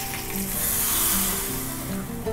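Curry leaves dropped into hot oil for a pumpkin and black chickpea kootu, a bright hissing sizzle that swells and settles over a couple of seconds, close up, with no one talking.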